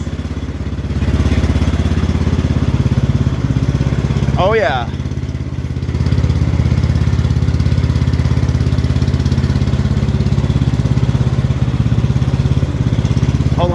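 The single-cylinder engine of an X T1 Enduro Series garden tractor runs at a steady, loud, close drone during a ride, with a brief pause in the middle where a voice speaks a few words over it.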